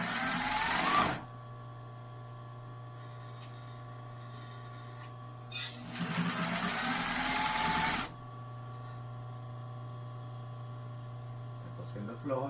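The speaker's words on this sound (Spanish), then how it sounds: "Está cosiendo flojo, le apretamos la tensión, pero es por el zigzag." Sewing machine stitching a zigzag on stretchy fabric for a custom boxer, running in two loud bursts, about one second and then about two and a half seconds long, with a steady low hum between them.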